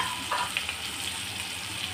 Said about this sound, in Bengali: এখন পেঁয়াজটা হালকা নরম করে ভেজে নেব